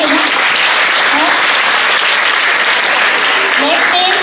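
Audience applause at an annual Vishnu Sahasranam satsang event, a dense, steady wash of many hands clapping close and loud throughout, with a few faint voices calling out over it.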